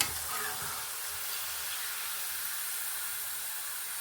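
Pieces of elephant foot yam frying crispy in a pan of oil, giving a steady, even sizzling hiss that stays constant and close throughout.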